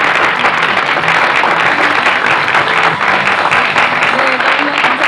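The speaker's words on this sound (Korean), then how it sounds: "다시 한번 뜨거운 박수 부탁드리겠습니다" An audience at a Korean talk show on filial piety gives the speakers warm, sustained applause, a loud continuous wash of clapping with faint voices mixed in.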